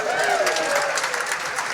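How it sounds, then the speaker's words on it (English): An evening concert audience gives a short burst of applause mixed with light cheering, a dense patter of clapping heard from within the hall that fades slightly at the end. "Can I have a little cheer for that?"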